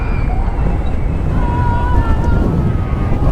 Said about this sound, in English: Oh, it's cold, it's windy